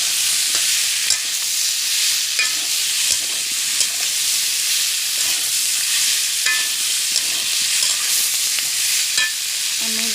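Pumpkin pieces stir-fry in a pan until browned, with a steady, bright sizzle throughout and light spatula scrapes and taps now and then.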